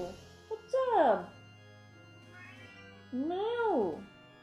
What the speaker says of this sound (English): There's a very chunky cat in the sofa meowing at me.